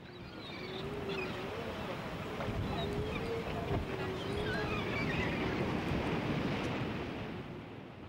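Atlantic surf breaking against granite rocks at Cabo da Roca, a steady broad roar with gusting wind, swelling toward the middle, with faint voices and gulls in the background.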